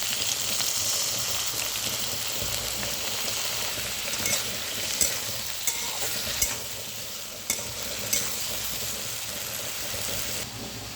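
Ginger paste fries in hot oil in a pan and is stirred steadily, a continuous close sizzle broken by several sharp scraping clacks of the spoon against the pan, with no talking.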